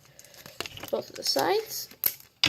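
Tape crinkling and tearing as it is pulled off and pressed onto a folded paper origami pocket knife, close and scratchy in short bursts, with a person talking over it.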